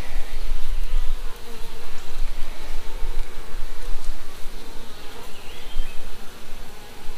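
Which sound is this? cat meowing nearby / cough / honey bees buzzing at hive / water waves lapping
honey bees buzzing at hive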